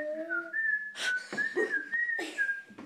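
Someone whistles a short, wavering tune in brief phrases, close and clear, with a few soft breathy noises between notes.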